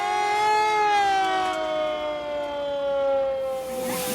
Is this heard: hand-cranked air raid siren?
yes